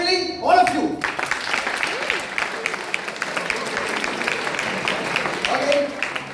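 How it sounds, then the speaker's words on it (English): Engineering students clapping together in a hall, a dense, sustained round of applause that starts after a brief spoken moment and carries on steadily at close range. "Now, clap happily, all of you."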